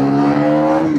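Steady, close engine drone from a Bajaj Pulsar NS400Z motorcycle pulling hard under acceleration, a sustained even tone held for about a second without speech.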